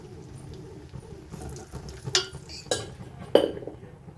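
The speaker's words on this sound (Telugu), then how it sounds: "రైస్ కూడా స్పూన్తోనే వేస్తున్నాను" Spoon adding rice into a pan while making pulihora, three distinct metallic clinks spaced about half a second apart over low kitchen background noise.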